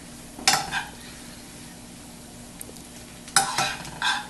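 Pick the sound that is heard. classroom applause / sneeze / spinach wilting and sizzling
spinach wilting and sizzling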